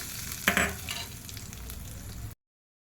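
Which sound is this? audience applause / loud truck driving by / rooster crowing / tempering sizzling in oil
tempering sizzling in oil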